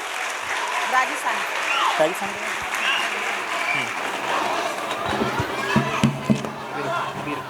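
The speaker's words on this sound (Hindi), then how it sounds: "एक बार जोरदार तालियों से स्वागत कीजिए।" Audience applause at a school annual function, steady dense clapping from a large crowd with loud cheers and chatter mixed in, continuing throughout.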